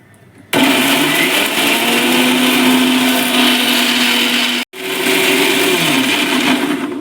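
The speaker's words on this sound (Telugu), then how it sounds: "వీటిని ఇప్పుడు కాస్త మనము మిక్స్ వేసుకుందాం" A mixer grinder blends fresh curry leaves into a paste with a loud, steady motor whir that starts abruptly, drops out for a moment near the end, then restarts. No one speaks.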